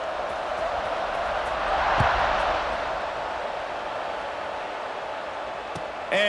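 Stadium crowd noise in EA Sports College Football 26 swells to a broad, steady roar before a kickoff, with cheering peaking around the middle and then holding at a distant, even wash.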